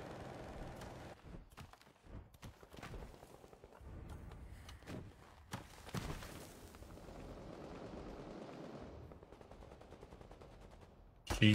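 Gunfire in a battle royale video game: rapid bursts of shots and machine-gun-like rattles layered with booming blasts over a dense, continuous background rumble, ending in a loud surge.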